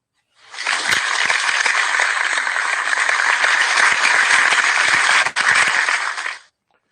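Sustained, dense applause from a crowd at the opening of a talk show about Italian wine, loud and steady for about six seconds with a brief dip near the end, and no voices over it.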